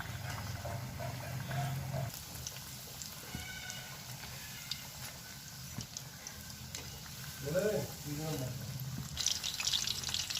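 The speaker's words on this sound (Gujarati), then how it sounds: "ધીમા તાપે બધા આપણે ચિકન ડોનટને ફ્રાય કરી લઈશું।" Steady sizzling of chicken doughnuts frying in hot oil over low heat, a continuous crackly hiss with a faint voice and some low background noise underneath.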